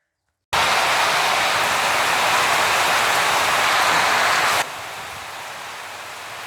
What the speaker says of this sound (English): Well, sometimes it rains in Thailand.